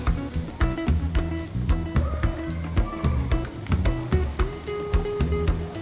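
Onions sautéing with a freshly ground paste, sizzling steadily in the pan while a utensil stirs and scrapes in repeated clattering strokes, close and fairly loud with no talking.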